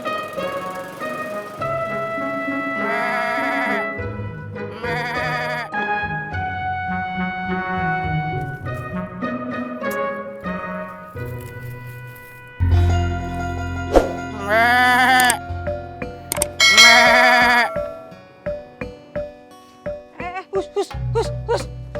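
A man frantically searching for his lost goat imitates its bleating with his own voice, producing wavering, quavering bleats in a couple of loud bursts over background music and other sounds.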